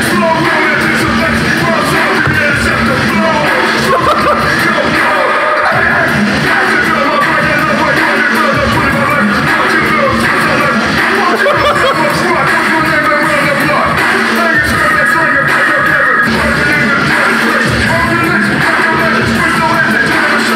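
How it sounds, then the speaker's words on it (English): The Death Grips industrial hip-hop track The Fever (Aye Aye) plays loud and dense, with distorted beats and shouted vocals running continuously. "Next track, The Fever,"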